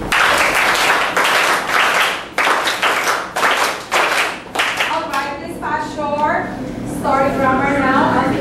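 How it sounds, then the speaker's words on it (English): An audience at a book talk claps in unison in a rhythmic four-beat pattern, loud and close. The sharp group claps fill the first five seconds, and then a person speaks. "Let's give them the 1, 2, 3, 4 clap 2 times, go!"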